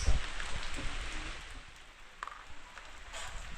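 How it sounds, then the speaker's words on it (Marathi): Steady patter of winter rain falling in a Konkan village, a soft continuous hiss with occasional heavier drops close by, no voices. "साडेचार वाजताचा पाऊस"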